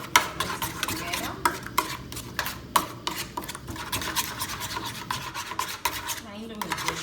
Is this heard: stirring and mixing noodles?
yes